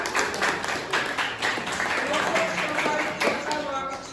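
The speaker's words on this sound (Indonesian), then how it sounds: "berikan tepuk tangan" A classroom group claps in scattered, uneven applause, loud and close, with voices talking over it.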